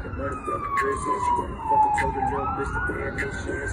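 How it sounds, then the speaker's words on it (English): An ambulance siren wails past, its sweeping tone sliding down in pitch as it goes by, fairly close and loud over a low rumble of background noise. "ambulance just made my music video better."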